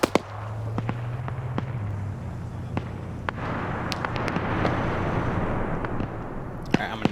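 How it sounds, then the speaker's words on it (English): M1 Abrams tank burning in a war video game, heard as a steady crackling, popping roar with scattered sharp bangs over low rumble, while a voice talks over it. "The Abrams is on fire."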